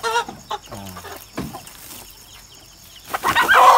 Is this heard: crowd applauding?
no